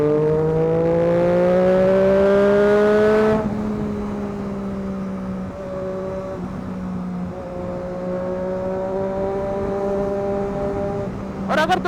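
A Triumph Daytona 675 sport motorcycle engine drones loudly with steady harmonic tones, shifting pitch as it revs in fourth gear, with rushing wind noise throughout.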